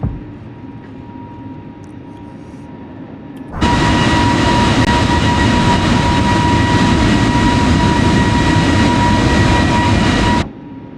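An airliner in Microsoft Flight Simulator, an A32NX with crew callouts, roars into its takeoff run, a loud steady broadband engine rush that starts abruptly, holds for several seconds, then cuts off.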